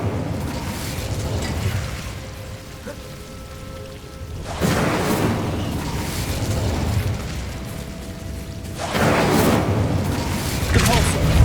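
Bursts of magical fire from the Incendio spell cast in the video game Hogwarts Legacy, heard as loud whooshing blasts around 4.5 and 9 seconds over a steady bed of game noise.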